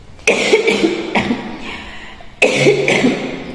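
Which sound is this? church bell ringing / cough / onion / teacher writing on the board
cough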